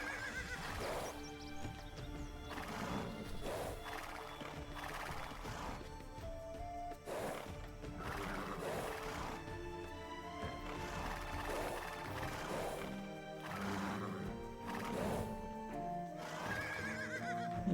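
Horse neighs and whinnies with clip-clopping hooves from the Age of Empires 2 Definitive Edition game, recurring several times over a steady bed of in-game music and mechanical clatter.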